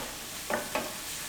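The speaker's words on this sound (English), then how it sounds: "You have to stir fry this first so it becomes a little soft." Vegetables stir-fry in a pan with a soft, steady sizzle, and two quick scraping strokes of a spatula stand out in the middle.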